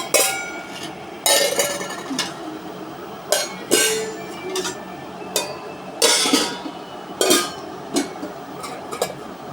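Steel cooking pots with lids clink and clatter in a series of sharp, bright metallic knocks, irregular and close, with quiet handling noise between them.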